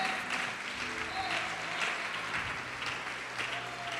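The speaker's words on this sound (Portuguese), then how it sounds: "Pode aplaudir e glorificar o Senhor." A church congregation applauds, a sustained, even roar of many hands clapping at moderate distance with a faint voice and tonal hum in the background.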